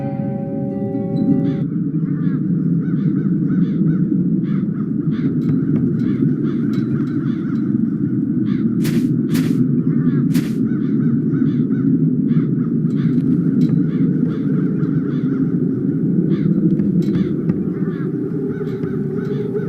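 Crows caw again and again in the fantasy adventure game Chains of Satinav, with harsh overlapping calls that fill the scene loudly and steadily over a constant background.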